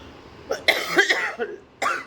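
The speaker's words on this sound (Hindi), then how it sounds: "खांसी हो रही है" Several harsh coughs from someone who is unwell, close and loud, come in a short cluster followed by one more cough after a brief pause.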